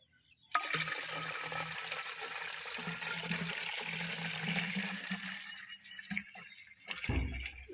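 Water poured into a handheld garden sprayer, five parts to one part plant solution for jasmine plants, a steady close splashing pour running for several seconds before tapering off, with a brief knock near the end.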